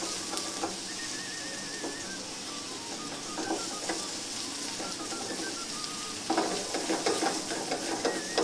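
Food sizzling and toasting in a pan over strong heat, giving a steady dense crackle with occasional scraping stirs that grow louder and busier toward the end.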